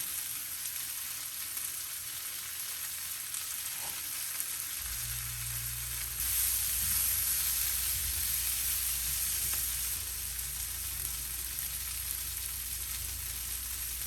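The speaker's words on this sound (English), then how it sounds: "we'll get the sausage in there and the basil. And give it a good stir." Turkey sausage and basil fry in a pan, giving a steady, close, even sizzle that swells slightly louder midway as the pan is stirred.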